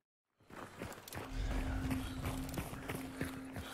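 Horse hooves clopping in the online shooter game Hunt: Showdown; a steady, moderately close run of muffled hoof beats over a continuous low rumble of game ambience, with no speech.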